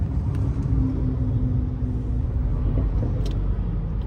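A Porsche 911 Turbo S drives past at a South Florida toy rally, a steady, fairly loud engine rumble that stays close and continuous without any talk.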